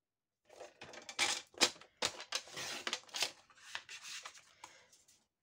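Scissors snip paper being cut down for a handmade pocket card, a quick run of short, crisp clipping and rustling sounds, close and fairly quiet, with uneven gaps between the cuts.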